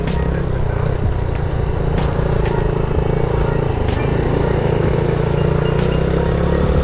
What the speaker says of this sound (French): Alors là on a un scooter